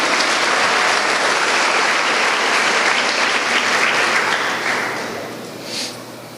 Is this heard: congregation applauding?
yes